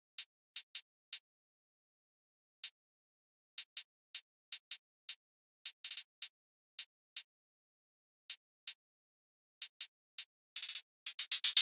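A programmed hi-hat pattern in a dark trap-style beat: crisp, close ticks in a steady, syncopated rhythm, with quick rolls bunched near the end, alone with no voice.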